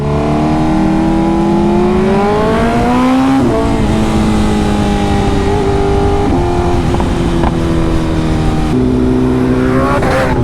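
A BMW M3 engine revs loudly and continuously, pitch climbing and dropping through gear shifts, close and steady with no voices.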